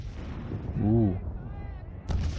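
In the video game Svoboda 1945 Liberation, a mortar booms with a deep, rumbling blast that swells and fades, followed by a second sharp report, while someone talks over it.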